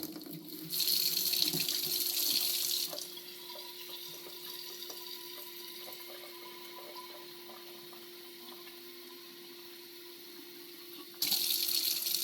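Water pours steadily into a hookah bottle with a bright hiss that drops to a quieter trickle after a few seconds, then surges again at the end.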